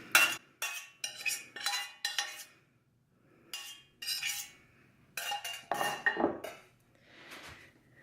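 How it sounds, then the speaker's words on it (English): Metal spoon scraping and clinking against a dish while stuffing is scooped onto a flattened vegan seitan roast, in short repeated bursts with brief pauses, close and moderately loud. "Spoon our stuffing in here."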